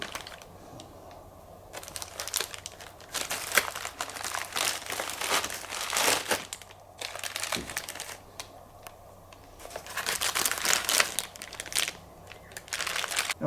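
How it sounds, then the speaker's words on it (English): Protective paper crinkling and tearing as it is pulled away from the parts of a boxed 2023 Mondo Masters of the Universe 1/6 scale Battle Cat figure, in bursts of close, loud rustling with quieter pauses between. "Now be careful when removing all the protective paper"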